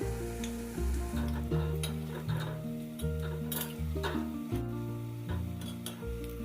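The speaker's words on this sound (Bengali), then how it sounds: "একটু উল্টে পাল্টে বড়াগুলোকে আমি ভেজে নিচ্ছি।" Poppy seed and jackfruit seed fritters frying over low heat in mustard oil, with a continuous close sizzle and bubbling broken by repeated soft stirring and turning scrapes, no voices.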